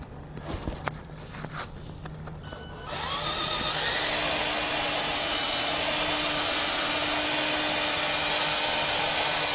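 Drill with a buffing pad polishing a car headlight with 3M compound: a few knocks and handling sounds, then the drill spins up to a loud, steady whirring buzz that continues close and unbroken.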